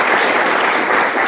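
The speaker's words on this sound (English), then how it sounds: "everyone give a round of applause for Bond" Brief, dense clapping rises from a student investment society general meeting as a speaker comes up, a loud, even burst of applause heard close.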